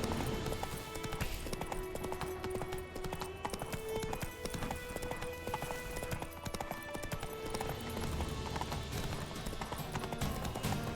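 Roach, Geralt's horse in The Witcher 3: Wild Hunt, gallops with steady rapid clip-clopping hooves over a dense, continuous game soundscape and music, loud and close throughout.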